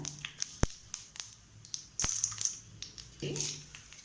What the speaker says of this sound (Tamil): இப்போ கடுகு பொரிய ஆரம்பிச்சிச்சு